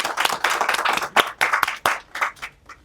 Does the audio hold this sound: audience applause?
yes